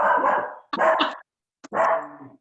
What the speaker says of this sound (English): This is not my dog's barking.